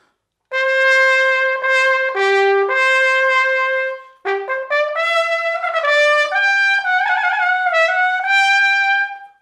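A bright natural trumpet with a small mouthpiece plays a sequence of sustained notes and quick runs, clear and close, with no other sounds.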